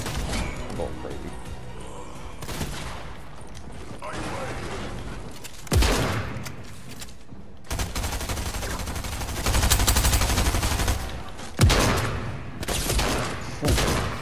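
Bursts of Fortnite gunfire, including rapid SMG fire from the Gunnar mythic, crack out in loud repeated volleys, with dense bursts in the middle and a sharp shot near the end, as someone talks excitedly over the fighting.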